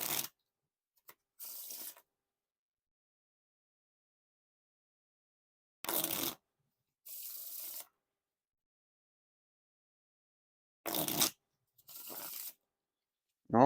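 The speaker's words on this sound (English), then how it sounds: "Now for the riffle shuffle or bridge shuffle." Riffle shuffles of a Stranger Things playing card deck by Theory11, heard as three close pairs of crisp fluttering card riffles, each followed by a softer bridge rustle, separated by silence.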